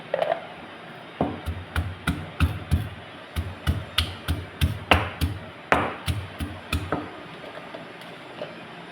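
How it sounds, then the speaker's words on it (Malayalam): Small shallots pounded by hand for a Kerala-style dish, right after dried red chillies were crushed, give a steady run of about fourteen sharp, even thumps, close and fairly loud, with a short pause before the beating resumes. "ഉള്ളി ചതച്ചു"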